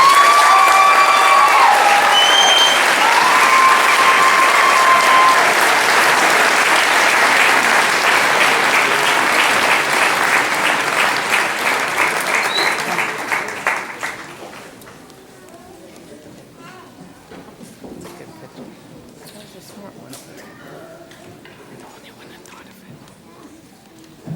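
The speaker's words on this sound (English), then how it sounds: "Please give a round of applause for the MBA graduates." A commencement audience gives MBA graduates sustained loud applause with a few cheers, which fades away after about fourteen seconds and leaves quiet room sound with faint murmurs.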